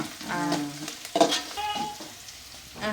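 Onions, fenugreek, mustard seeds and curry leaves sauté in sesame oil, giving a close sizzle with stirring scrapes and a brief louder clatter partway through.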